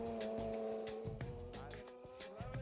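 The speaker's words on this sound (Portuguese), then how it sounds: "Uma vez dentro, ligar o motor e pisar fundo." A race car engine roars at steady high revs with harmonic whine, punctuated by sharp bursts and gear changes as it accelerates hard, close and loud.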